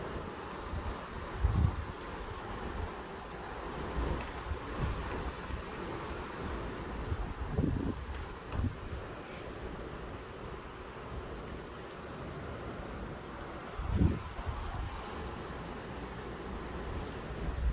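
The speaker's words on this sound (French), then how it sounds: "Oh mais là, il est trop fort, le vent," Steady roaring wind from Storm Larisa in Mérignac, with rushing, rustling gusts and occasional low buffeting thumps, continuous throughout without any talk.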